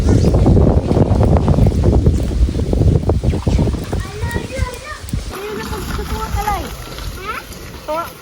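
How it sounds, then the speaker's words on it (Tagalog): Strong wind roars across a microphone on a mountain coconut farm during harvest, a heavy steady rush that eases slightly midway, with children's voices and chatter rising over it toward the end. "Ibang lakas ng hangin."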